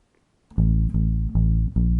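Four short, punchy low bass guitar notes played in a syncopated rhythm on push notes, each separated by a brief gap, loud and close with no talking.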